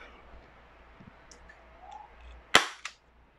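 A Kjworks MK1 airsoft toy gun fires a single sharp, loud crack, followed by a fainter echo-like report, after a few quiet clicks and handling noises.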